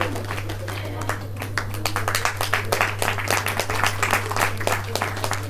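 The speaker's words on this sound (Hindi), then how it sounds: "ताली लगातार बनी देनी चाहिए" An audience claps steadily and continuously at a women's Ramlila stage performance in a Delhi hall, a dense rhythmic patter of many hands over a constant low electrical hum.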